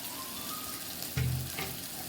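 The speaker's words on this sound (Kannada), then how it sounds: "ಅದು ಚೆನ್ನಾಗೆಲ್ಲ ಎಣ್ಣೆ ಬಿಡೋವರೆಗೂ ಚೆನ್ನಾಗಿ ಹುರ್ಕೋಬೇಕು." Masala for egg biryani fries in oil in a pan with a soft, continuous sizzle. A short stirring scrape rises briefly midway, then the sizzle carries on alone without talking.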